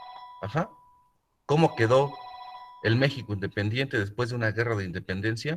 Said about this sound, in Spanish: perdón por el teléfono